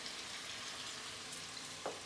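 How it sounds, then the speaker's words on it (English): Chopped onions fry with salt in a pan for a Bengali-style chicken curry, giving a quiet, steady sizzle with a faint stir or scrape near the end. "Fry the onion"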